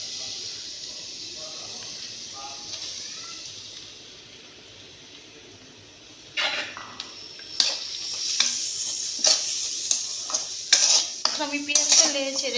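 Half a cup of chopped onion goes into hot oil in a pan for a Bengali tengra fish curry, giving a quiet hiss at first, then a bright sizzle with repeated clinks and scrapes of stirring.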